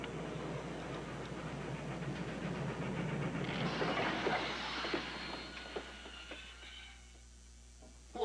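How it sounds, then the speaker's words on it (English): Venice Simplon Orient Express luxury train running, a steady rolling rumble with rhythmic clickety-clack and a hiss, loud and continuous, fading toward the end with no talk over it. "The Venice Simplon Orient Express."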